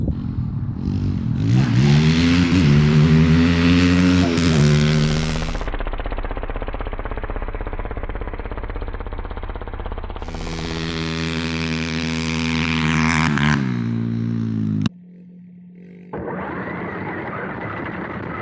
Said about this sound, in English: Today we're going to be racing the pit bike versus the Baja Ray.